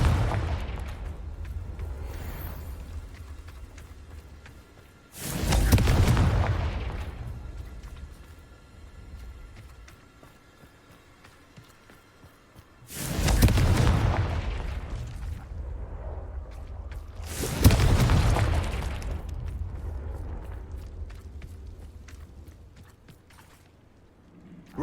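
Three heavy Confringo spell explosions in the Hogwarts Legacy video game boom out several seconds apart, each blast ringing down into a low, creaking rumble.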